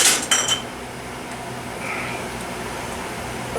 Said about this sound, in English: We're going to take some jars out. These are hot.